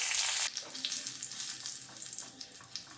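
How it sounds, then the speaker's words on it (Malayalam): Dried red chillies and mustard seeds fry in hot oil for a Kerala-style roasted-coconut chicken curry, a loud close sizzle that crackles and flares steadily with no talking. "കടുകെല്ലാം പൊട്ടിക്കഴിയുമ്പോൾ നമുക്ക് വറ്റൽമുളക് ചേർത്ത് കൊടുക്കാം."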